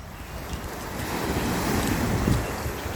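Waves washing onto a beach at Sarnia on a spring day, a continuous rushing surf mixed with wind buffeting the microphone, steady and fairly close throughout.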